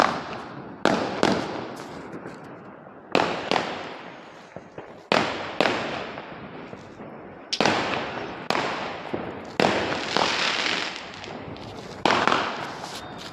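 Firecrackers burst in a series of sharp, loud bangs at irregular intervals, each followed by crackling and a fading rumble.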